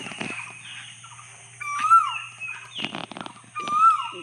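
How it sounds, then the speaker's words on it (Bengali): An Asian koel calls from the top of a tree in a rural field area, its clear rising whistled notes repeating twice over a quiet background with a steady low hum. "গাছের মাথায় বসে বসে কোকিল ডাকছে,"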